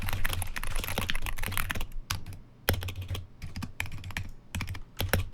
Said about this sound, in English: for a pre-built gaming keyboard, it still sounds surprisingly good